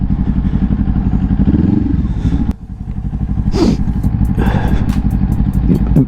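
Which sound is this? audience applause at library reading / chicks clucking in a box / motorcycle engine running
motorcycle engine running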